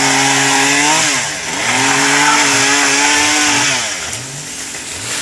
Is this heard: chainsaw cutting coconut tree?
yes